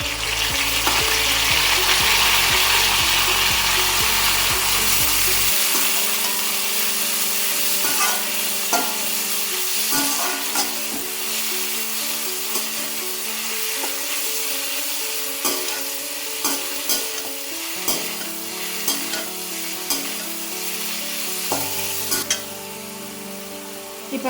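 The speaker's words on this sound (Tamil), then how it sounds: "இப்போ வெங்காயம் தக்காளி நல்லா வதங்கிடுச்சு." Onion and tomato sautéing in a pan for masala bread, a steady loud sizzle with repeated stirring scrapes and spoon clinks throughout, no voices.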